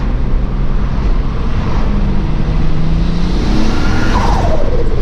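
A turbocharged MK3 VR6 Variant pulls hard in third gear, its engine roaring loud and close with pitch climbing steadily throughout, no voices present.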